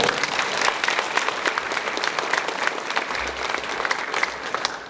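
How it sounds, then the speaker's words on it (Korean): A church congregation gives welcoming applause during a Sunday worship service, a full, loud burst of many hands clapping steadily for about five seconds. "저희 환영의 박수로 우리 환영하겠습니다"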